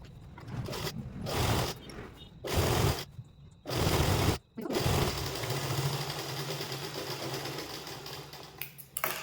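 A sewing machine stitches the lining panels of a twelve-panel kali palazzo. It runs in short bursts with brief pauses at first, then settles into a long continuous mechanical whir. Someone speaks faintly in the background.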